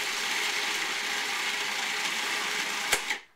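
A food processor whirs through a salmon burger mixture, a steady high motor whine running continuously before a small clunk and abrupt stop near the end.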